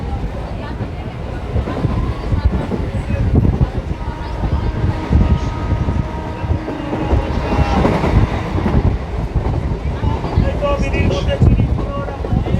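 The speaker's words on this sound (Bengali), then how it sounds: "তো আমাদের ট্রেনটি এই মুহূর্তে মাঝের গ্রাম ছেড়ে বেরিয়ে গেল।" A local train pulls out of Majhergram on the Ranaghat to Bongaon line, its loud, steady rumble and rattle mixed with heavy wind buffeting across the microphone.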